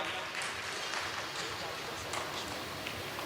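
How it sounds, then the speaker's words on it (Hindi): Steady applause from an audience at an All India Mushaira welcoming guests, a dense continuous patter of clapping throughout at moderate level. "आप जोरदार तालियां बजाइए"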